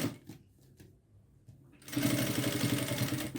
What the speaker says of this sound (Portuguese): costurinha de segurança, fixando vinil com tela vôlei